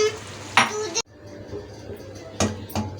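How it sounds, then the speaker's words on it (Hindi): Boiled boneless chicken pieces stirred into a pan with macaroni and vegetables, with a metal spoon scraping and clanking against the pan in a few sharp knocks over a low sizzle. "ये देखें अपनी मैंने चिकन इसमें मिला दी है"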